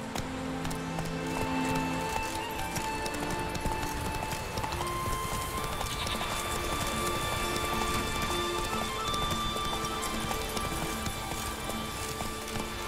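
Roach, Geralt's horse in The Witcher 3, gallops steadily with a fast, continuous clip-clop of hooves for the whole stretch, close and even, under a faint hissing ambience and no talking.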